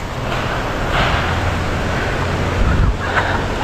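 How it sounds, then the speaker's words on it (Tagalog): Steady, loud wind roars across the whole stretch, buffeting the microphone with low rumbling gusts that swell slightly near the end. "lakas ng hangin dito"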